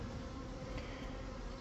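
Honey bees buzzing over hive frames while making splits, a dense continuous hum of many insects close by with no pauses.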